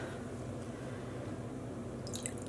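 Running water pours steadily over spoons as dye is rinsed off under a tap, a continuous close wash with faint dripping and brief splashes near the end.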